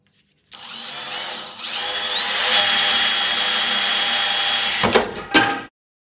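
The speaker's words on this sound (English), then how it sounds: "going to find a small drill bit and very carefully start drilling this hole" A small drill bit bores through a car bonnet on a BTCC replica Laguna track car, a steady whining drill run lasting several seconds that rises in pitch, ending in a few sharp knocks.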